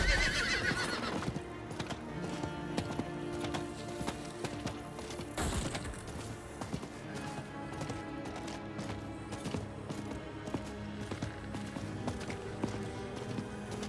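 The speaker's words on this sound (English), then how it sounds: "I've just remembered I have a horse." A horse in the video game Diablo IV gives a loud neigh at the start, then gallops with a steady, rapid clip-clop of hooves throughout.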